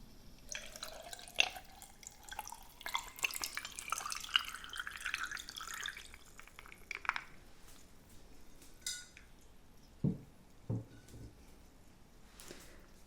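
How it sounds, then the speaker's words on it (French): Water poured close up into a glass with an electrolyte tablet, a soft trickling pour at first, then quiet drips and small clinks of glass, all faint and gentle. "Et je verse l'eau."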